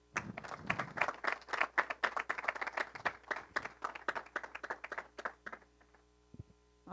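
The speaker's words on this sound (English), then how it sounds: "Let's give him one more round of applause." An audience claps in a dense burst of applause that carries on for several seconds, then thins into a few scattered claps and dies away over a low steady hum.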